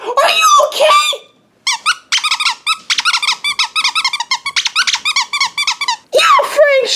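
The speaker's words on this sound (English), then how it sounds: "made me drop my squeaky toy" A squeaky toy squeaks in a rapid string of sharp, high chirps, loud and close, framed by bursts of excited cartoon-style voices at the start and end.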